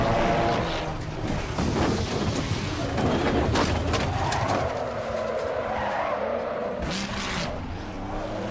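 Race car in a sim-racing game spinning out on sand, with sustained loud skidding and tire scrub over engine drone, shifting tones as it slides.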